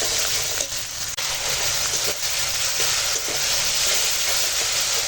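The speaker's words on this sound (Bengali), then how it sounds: "এবার মশলাটা একটু ভালো করে কষিয়ে নেবো যাতে টমেটোটাও গলে যাবে" Spice masala with tomatoes sizzling as it fries in a pan, a steady bright hiss with small crackles and a few clinks of stirring, close and continuous.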